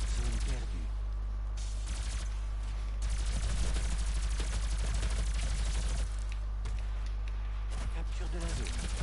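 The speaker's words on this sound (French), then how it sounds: "un fusil à plasma" Rapid bursts of plasma rifle fire in Doom, loud and close, coming in several long rattling volleys separated by brief pauses, with game sounds layered underneath.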